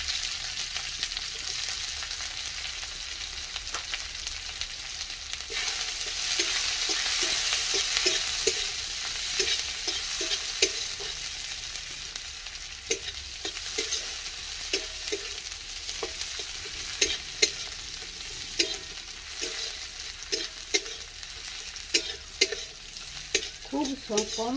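Chopped onion fries in a pan with a continuous crackling sizzle, joined partway through by repeated scraping and tapping of a spatula stirring, near and moderately loud.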